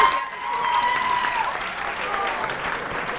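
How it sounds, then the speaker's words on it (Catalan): A studio crowd on a Catalan TV quiz show claps for a school team, a dense, even round of applause lasting the whole clip with a faint tone beneath it. "Un aplaudiment que en aquest primer nivell"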